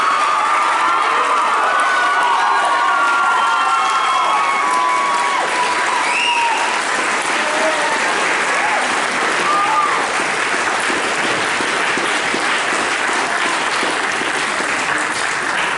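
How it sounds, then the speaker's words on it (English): At a high school spring band concert, the audience gives the senior class loud, dense applause with cheering and whoops, a continuous roar of clapping and shouting voices that fills about sixteen seconds. "Let's give a big hearty round of applause for our senior class."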